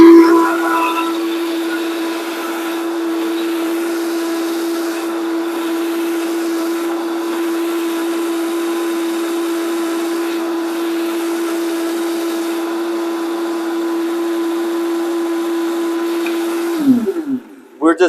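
A kitchen blender running steadily on cucumber, apples, cilantro, celery and kale, a loud constant motor whine that holds level for about seventeen seconds before spinning down near the end.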